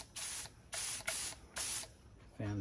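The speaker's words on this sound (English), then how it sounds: "One thing about spraying, a lot of wasted glaze." A glaze spray gun in a pottery studio spray booth gives four loud, even bursts of hissing spray, each about half a second long, separated by short pauses, close to the microphone.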